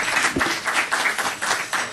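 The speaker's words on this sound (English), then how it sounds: "can you give him a round of applause as he comes?" Audience at an evening memorial event for Hadiya Pendleton gives a round of applause for a man coming up to speak; dense, steady clapping from many hands fills the whole moment, fairly close and loud, with no talk over it.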